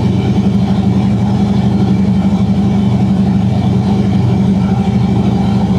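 A Chevrolet big-block V8 runs on an engine test stand, a loud, steady, deep rumbling idle with a continuous throbbing pulse close up, and no one speaks over it.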